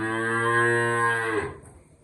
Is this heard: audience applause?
no